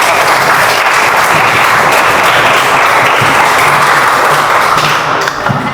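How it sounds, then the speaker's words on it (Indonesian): Group of people applauding in a classroom, dense steady clapping that fills the room loudly and continuously, with a few thumps mixed in. "Kasih aplaus dulu untuk kelompok."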